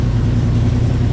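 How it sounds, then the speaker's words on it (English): A 1968 Chevelle with a 396 big block engine gives a brief, loud rev as the gas pedal is touched, a steady low rumble with no talk over it. "Oh, I touched the gas pedal. Did you hear that?"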